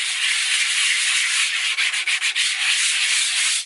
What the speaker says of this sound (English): I'm using the 80 grit sandpaper.